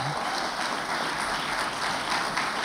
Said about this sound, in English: You can give me an applause for that.